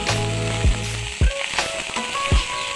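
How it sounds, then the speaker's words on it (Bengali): Fried rice being stir-fried in a pan: a steady nearby sizzle punctuated by three firm scraping strokes of the spatula. "দশ মিনিট এভাবে নেড়েচড়ে ভেজে নেব"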